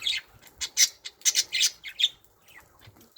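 Harsh, scratchy bird squawks from a budgerigar, a rapid series of loud bursts close by, then a few softer chirps trailing off.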